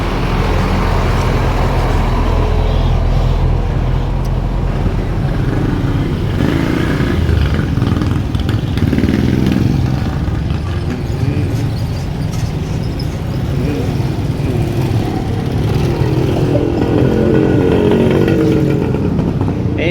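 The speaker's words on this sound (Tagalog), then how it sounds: "Ay talaga ate, puro traffic." Heavy road traffic with trucks at a street corner, a loud continuous roar of engines rising and falling as vehicles pass close by, with no voices.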